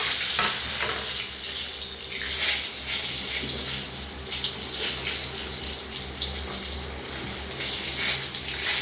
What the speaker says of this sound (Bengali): এর মধ্যে এবার দিয়ে দিচ্ছি দুটো তেজপাতা